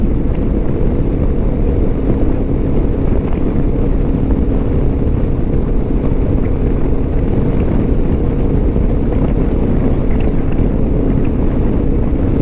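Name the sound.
riding a 2025 Lifan KPT 400 motorcycle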